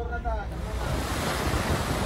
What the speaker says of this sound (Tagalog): Naglalakihang mga alon din ang humampas sa baybayin ng ilang bayan sa Bohol